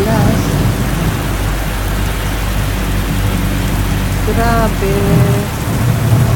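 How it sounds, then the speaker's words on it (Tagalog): Heavy rain on a flooded street in Jeddah, Saudi Arabia: loud, dense, continuous downpour hiss with a low rumble. A short vehicle horn sounds partway through, and a voice briefly speaks over it. "Ulan, baha na kami."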